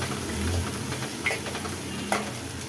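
Onion and curry leaves sautéing in a pan, a soft steady sizzle with scraping stirs and one sharper clink near the end, close by with no voices.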